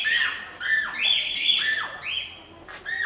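Birds at a pet-friendly place in Tagaytay, Philippines, give loud, close, repeated squawks and chirping calls, one after another for several seconds with no talking.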